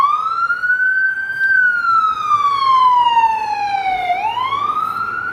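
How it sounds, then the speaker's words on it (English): An ambulance siren passes, its loud wailing tone sliding slowly up and down in one long continuous sweep, dipping low and then climbing again, with no one talking. "It's been a while since I had an ambulance come through on one of my lessons."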